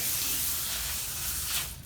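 A steady, close hiss of water spraying from a hose during a morning cleaning of dog kennels, continuous throughout and fading slightly at the end.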